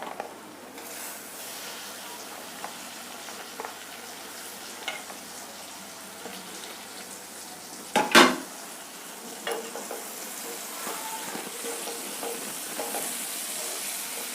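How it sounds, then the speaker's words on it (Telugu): Dried fish tipped into a hot pan with turmeric sizzles and crackles steadily, with one sharp clatter as the fish goes in, then a continued low frying hiss. "పసుపు వేసిన తర్వాత కడిగి పెట్టుకున్న ఈ వట్టి చేపలు వేసుకోవాలి."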